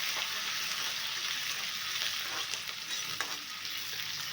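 Ridge gourd pieces and seven or eight green chillies frying in a pan for a ridge gourd curry, a steady bright sizzle with occasional faint stirring scrapes and crackles, close and continuous with no talking.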